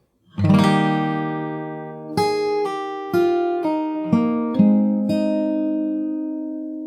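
An acoustic guitar picks the opening of a song from The Last of Us Part II very slowly: a strummed chord rings out, then six or so deliberate plucked notes follow, each sustaining and overlapping, near and clean with no speech.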